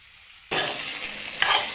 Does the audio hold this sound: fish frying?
yes